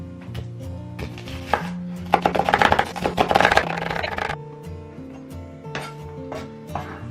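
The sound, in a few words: chopping two onions finely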